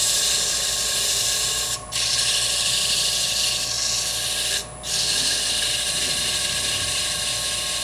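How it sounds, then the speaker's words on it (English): Steady, close abrasive hiss of sanding on a wooden lidded box, continuing almost unbroken with two brief pauses between strokes. "I want to do just a little bit of sanding, mostly only on this end."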